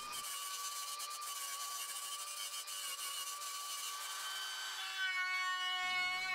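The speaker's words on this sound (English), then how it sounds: "I used a flap disc sander attachment on my angle grinder" An angle grinder whirs with a steady high-pitched whine as a flap disc grinds and sands a wooden cutting board for several seconds.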